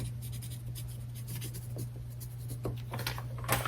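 A marker writes on plastic freezer bags, making continuous close scratchy strokes and squeaks over a steady low hum.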